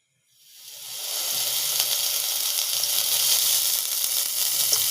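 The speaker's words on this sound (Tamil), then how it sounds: "வதங்கிறதுக்கு தகுந்த மாதிரி ஆயில் வந்து நம்ம போட்டுக்கணும். நல்லா பொரியட்டும்." Oil heats in a cooking pan and breaks into a steady, close hiss and sizzle that rises in the first second and holds evenly, with no voices.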